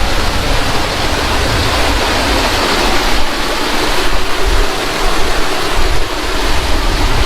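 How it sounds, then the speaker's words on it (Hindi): Meltwater rushes loudly inside a glacier cave on the Kedarnath trek, a dense, constant roar of flowing water filling the space with no pauses or talk. "पानी बहुत बह रहा है"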